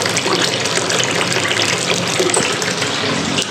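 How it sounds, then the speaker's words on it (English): Water gushes steadily from a tap into a bathtub being filled for a bubble bath, a loud, continuous close-up rush with no pauses and no voices. "before you start running the water. That way you get the bubbles."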